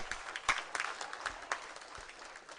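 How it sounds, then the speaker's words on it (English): At a university graduation ceremony, a crowd claps in welcome, scattered hand claps rising and falling, faint and distant in a large hall. "Please receive him with a hand clap."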